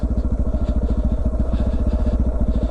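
Dual sport motorcycle climbing a steep trail in first gear, its single engine putting out a steady, close, low-pitched rhythmic thump with no talk over it.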